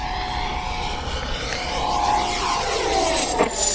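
An FMS Integral 80mm EDF RC jet makes a high-speed low pass over a runway, its loud ducted-fan whine rising and sweeping in pitch as it rushes past close by, with no voices.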